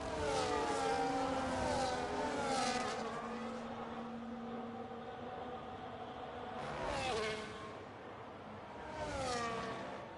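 A McLaren race car at Spa in a racing video game, its engine revving up and down through gear changes with rising and falling whine, loud and continuous, with other car engines passing across the stretch.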